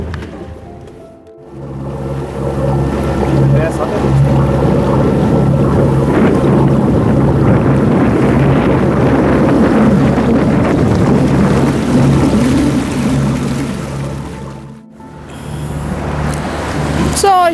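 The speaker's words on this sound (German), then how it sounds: "etwas windig hier." Strong wind buffeting the microphone on a sailboat deck off Mallorca near Palma's Real Club Náutico, a steady loud roar with flapping gusts and water rush, briefly dropping out near the start and end.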